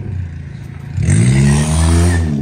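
A Ford truck reverses into a vending machine: an engine note first, then a sudden loud rev as it pushes back, with a scraping clatter of impact, close and short.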